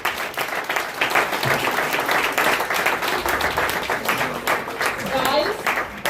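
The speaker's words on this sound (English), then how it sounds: "And let's give them a round of applause." Audience applause at a student award ceremony at a Jamaican resort, a steady dense wash of clapping held across the whole stretch with some voices mixed in.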